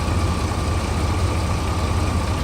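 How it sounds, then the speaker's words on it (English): A Chevrolet Astro van engine idles smoothly and steadily, a low continuous rumble at even volume with no talking over it. "look at how smooth that engine"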